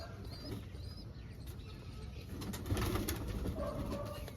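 Pigeons cooing at a kept loft, soft low repeated coos mixed with a few thin chirps, moderately distant over a murmuring outdoor background.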